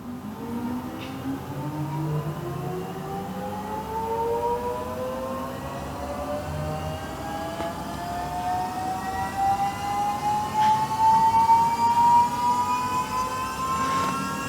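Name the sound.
car power steering pump winding up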